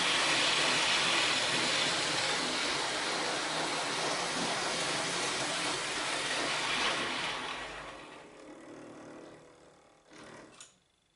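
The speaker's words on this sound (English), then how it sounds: "this is just a quick test of the train before I started building more layout" Hornby Pendolino model train running on layout track, a steady close whirring rumble of motor and wheels that holds for several seconds, then quickly fades away as the train passes.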